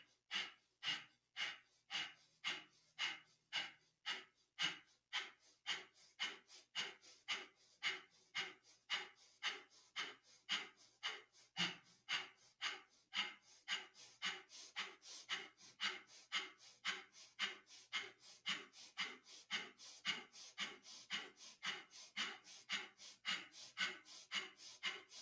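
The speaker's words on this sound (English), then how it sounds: "begin breath of fire" Breath of fire, a rapid yogic breathing exercise, comes as a long run of quick, forceful nasal exhalations, roughly two per second, close and rhythmic, speeding up slightly partway through with no talking over it.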